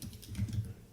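Quick light keystrokes on a computer keyboard while entering a database property, a rapid patter of several taps over about a second, close and clear with no voices.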